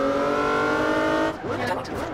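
A limousine in the racing game Forza Horizon 4 holds a steady engine drone, then shifts to a rougher, changing tone, loud and up front.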